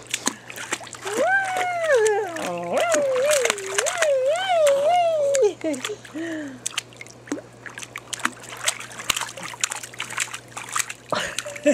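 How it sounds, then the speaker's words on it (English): A baby plays in water, making frequent small splashes and sloshes throughout while babbling and squealing loudly over them for the first half. "You like playing in the water, Sky?"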